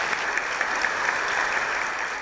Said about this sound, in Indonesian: kita berikan aplaus untuk Bunga